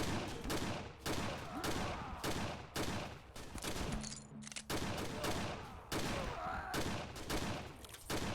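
Dense, sustained automatic gunfire from enemies in the Ashes 2063 video game, loud and near, rattling in rapid repeated bursts with only a brief pause midway.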